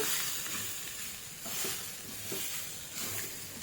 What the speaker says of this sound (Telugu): కొబ్బరి అది వేసేసుకొని కలుపుకుంటూ చక్కగా ఫ్రై చేసేసుకోవాలి ఇది కూడా గోల్డెన్ బ్రౌన్ కలర్ వచ్చే వరకు ఫ్రై అయిపోవాలన్నమాట